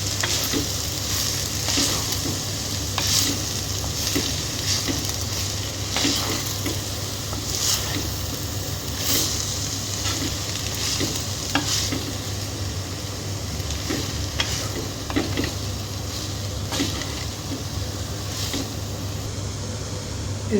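Boiled peanuts and red poha stirred in a frying pan, a steady soft sizzle with repeated scraping strokes of a spoon against the pan over a constant low hum, close and continuous with no talking.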